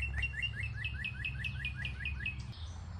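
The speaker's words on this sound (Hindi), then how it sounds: "बहुत ही खूबसूरत पंछी हैं, यहाँ पर चहचहा रहे हैं।" A bird chirps in a rapid, regular series of about a dozen bright notes, fairly close, over a low background rumble.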